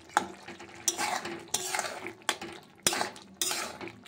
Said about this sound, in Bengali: তো এভাবে একটু ওপর নিচ করে ভালো করে নেড়ে দিচ্ছি।